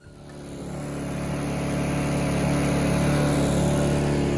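A small engine drones steadily and close, its pitch rising slightly at the start before settling into a constant buzzing hum.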